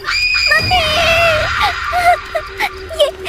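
A woman screams loudly in a horror story, a sustained high shriek that trails into shorter gasping cries, close and alone with faint background noise.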